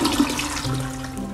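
A toilet flushes close by in a small room, one brief steady rush of water with a low gurgle underneath, heard alone.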